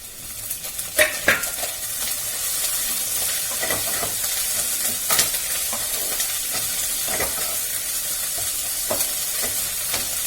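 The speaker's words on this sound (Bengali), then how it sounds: "এবার আমি পুরো টমেটোটা দিয়ে দিচ্ছি। এবার একটু কষাতে থাকি।" Tomatoes and ginger stir-fry in a pan for spicy chicken bhuna masala, with a continuous sizzle under repeated spatula scrapes and clinks against the pan, heard alone without speech.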